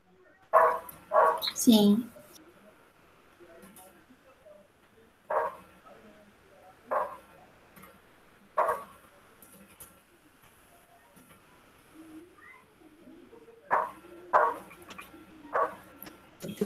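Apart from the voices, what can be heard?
neighbor's small dog barking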